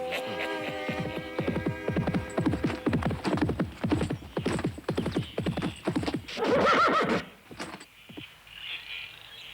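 A horse in a French animated film whinnies loudly several times over a quick, rhythmic clip-clop of hooves, ending in one long, shrill neigh close by.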